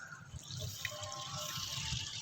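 Water running onto a concrete house roof being cured during construction in Pakistan, a faint steady splashing and trickling hiss like a hose flow, with soft low bumps and no voices.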